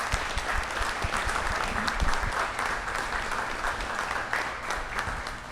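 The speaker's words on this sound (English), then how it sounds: "Big round of applause for our panelists." An audience at a hurricane preparedness panel gives a full round of applause, steady and loud throughout with no talking over it.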